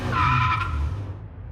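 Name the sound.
cartoon mini car skidding to a stop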